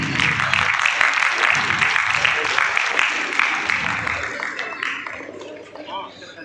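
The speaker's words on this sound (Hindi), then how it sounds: "दीप प्रज्वलन होते ही आप लोग तालियां बजाना शुरू कर दीजिएगा" An audience at a Bhojpuri cinema award show claps together in sustained, loud applause during a lamp-lighting, gradually fading away toward the end.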